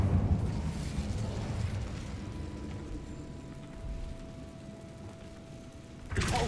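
Fire spell cast in the video game Hogwarts Legacy: a roaring burst of flame settles into a low, fading rumble, then a second sharp flare near the end, with no talk over it.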